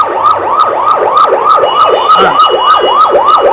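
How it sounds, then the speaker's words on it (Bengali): A fire service truck siren wails loud and close in rapid, repeated rising-and-falling sweeps as the truck arrives at a fire in Karwan Bazar, with no voices. "এখানে আপনার ফায়ার সার্ভিসের গাড়ি কিন্তু চলে এসেছে আগুন নিয়ন্ত্রণ করার জন্য"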